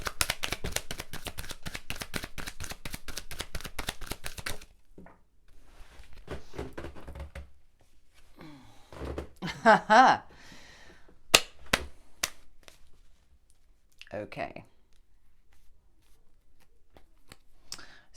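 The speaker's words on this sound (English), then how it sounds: "as I've shuffled some more cards" Tarot cards shuffled by hand, a dense run of quick riffling clicks for several seconds, then scattered softer card taps and slaps, with a brief spoken word.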